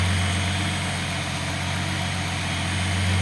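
A Datsun 280ZX turbo engine running on a test stand, a steady, loud, continuous idle drone with a strong low hum and even mechanical whir throughout, no speech.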